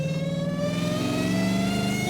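A 1,000 hp Dodge Hellcat Charger with modified transmission revving up, a smooth rising engine drone topped by a steady high whine that climbs in pitch, close and sustained with no talking.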